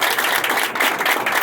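Applause from a crowd at a Haitian political party gathering marking November 18, a brief dense burst of many hands clapping together, loud and steady throughout.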